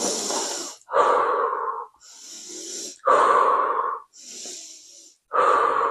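Deep breaths are drawn in through the nose and pushed out through the mouth in a steady rhythm, about three full cycles, close and clear with no talking.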